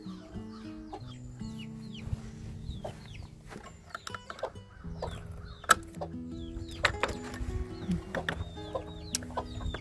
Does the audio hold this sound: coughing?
no